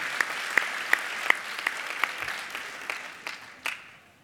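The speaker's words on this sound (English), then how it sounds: "Let's give them applause, you guys." A crowd at the SCAA 2014 opening ceremonies applauds, fairly faint, with a few sharp individual claps standing out above the steady patter.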